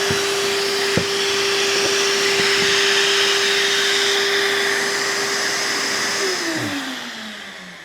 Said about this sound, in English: The vacuum will hold the board onto the